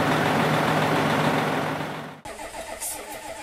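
An International DT466 diesel engine runs loud and close with a steady low drone, then abruptly cuts to a quieter, rougher idle with a faint mechanical clatter.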